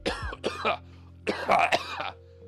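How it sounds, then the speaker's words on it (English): Several harsh coughs and throat-clearing bursts in two clusters, close and fairly loud, with a low steady hum beneath. "I'm coughing, that's how I'm doing it."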